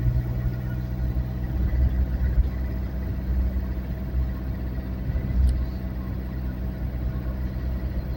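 Peugeot 306 with a 1.9 diesel engine, recently swapped, running at a steady idle: a low, even rumble that continues unchanged throughout, close by, with no talk.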